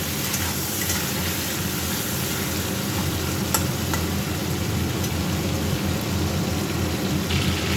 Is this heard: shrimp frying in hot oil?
yes